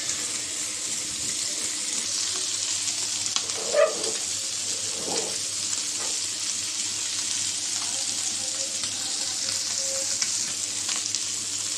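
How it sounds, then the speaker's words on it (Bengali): Small fish frying lightly in a pan give off a steady, even sizzling hiss at close range, broken by a brief clink and a couple of soft knocks partway through, with no voices. "ওর জন্য একটু হালকা করে ভেজে নিতে আসি"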